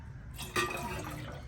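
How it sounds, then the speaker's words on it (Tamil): Water pours into a pot while urad dal porridge is being cooked, a faint splashing stream that starts abruptly and runs steadily in a quiet kitchen. "அதுக்கு 5 வழி தண்ணி விட போகிறேன்."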